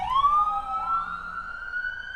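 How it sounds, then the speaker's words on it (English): Emergency vehicle sirens in the game Arkham Origins, several overlapping wailing tones sweeping upward, loud and fairly close, with no talking. "It's a lot of sirens."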